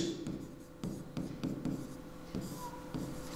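A pen moves over paper or a board during a class 10 math lesson, making short scratchy strokes and light taps in an irregular rhythm, close by, with no voice over it.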